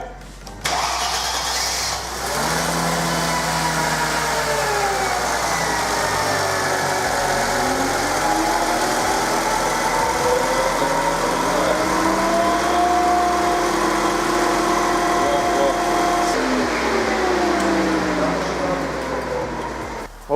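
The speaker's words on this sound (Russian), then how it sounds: "Мы поменяли помпу. Сейчас будет первый старт." A Mercedes W211 with the M112 engine cranks and fires up after a water pump replacement, then settles into a steady idle with rising and falling tones, loud and close for about twenty seconds.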